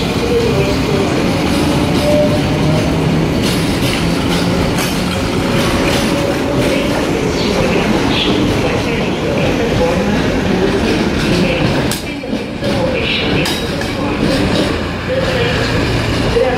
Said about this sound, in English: The train to Belfort Roche Station will depart from platform 11, train K.